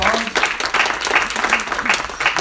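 Crowd applause, steady dense clapping from many hands throughout, with a voice briefly audible underneath.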